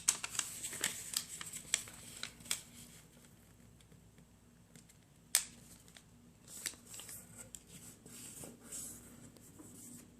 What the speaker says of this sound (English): Now we're going to fold a crease here